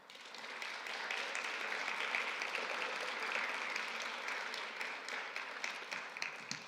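Sustained applause from a graduation audience at a physician assistant commencement ceremony, a steady wash of many hands clapping at moderate distance, fairly quiet and even throughout with no voices over it.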